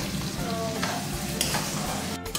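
Chopped tomato with turmeric and salt fries in a hot pan, a steady close sizzle broken by repeated scraping strokes as it is stirred.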